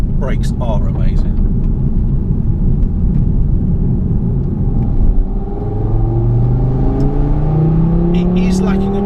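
A 2018 Audi TT RS engine builds revs under acceleration while driving, a loud, steady, deep rumble inside the cabin with a rising tone toward the end and a few light clicks.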